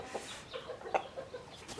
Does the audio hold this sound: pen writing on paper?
no